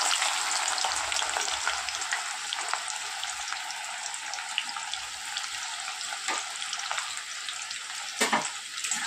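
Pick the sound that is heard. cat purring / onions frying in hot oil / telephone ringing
onions frying in hot oil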